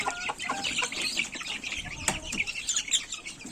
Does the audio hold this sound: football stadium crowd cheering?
no